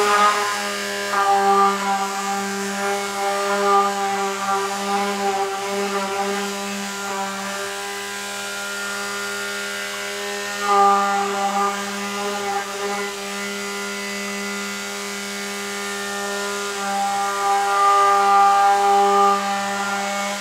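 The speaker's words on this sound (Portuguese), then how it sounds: "Mas eu vou usar o mixer para poder antecipar um pouquinho mais" A handheld electric mixer blends a baking soda soap mixture, a steady motor whine with strong harmonic tones running continuously and fairly loud throughout, with slight shifts in pitch as it works.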